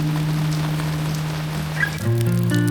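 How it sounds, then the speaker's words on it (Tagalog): Steady rain patters on surfaces under a low droning hum, with a brief mechanical tonal sound joining near the end. "Walang katapusang ulan to ah."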